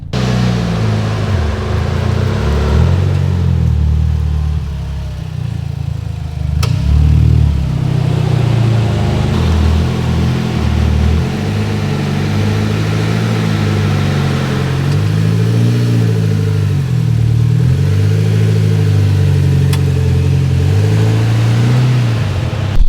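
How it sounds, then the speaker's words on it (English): A car engine runs steadily and loud for the whole stretch, with a few revs rising and falling as the vehicle is pulled or backed into place before a front splitter install. "we'll either pull in or back the vehicle in and get started on the splitter"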